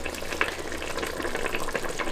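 Fish set into moqueca sauce in a cooking pan gives a soft continuous sizzle and bubbling, steady and close with small crackles, no voices.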